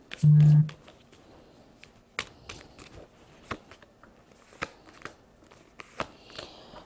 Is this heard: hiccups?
no